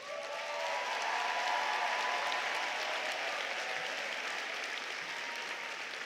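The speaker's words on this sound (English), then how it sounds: "Let's give these graduates a big round of applause." Graduation ceremony audience gives a sustained, even round of applause for the graduates, a broad wash of many hands clapping in a large hall.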